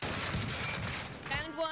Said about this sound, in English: Enemy is firing.